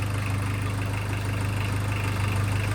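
A VW Mk2 Golf engine idles steadily while warming up after a rebuild, with a low, even throbbing pulse that runs unbroken and close-up for a few seconds, no revving and no voices.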